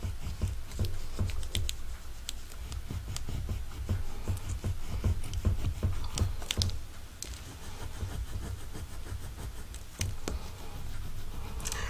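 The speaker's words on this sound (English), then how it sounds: "I'm just going to rub on transfer this right here, and I'm just using my bone folder to" A bone folder rubs a rub-on transfer onto a collage page, producing soft, close scratchy strokes and light taps in quick irregular bursts, faint and alone.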